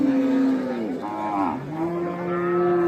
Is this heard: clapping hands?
no